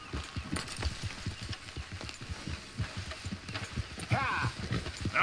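Horse hooves clip-clopping steadily in Red Dead Redemption 2, a fairly quiet, close rhythmic trot under talk, with a brief animal call near the end.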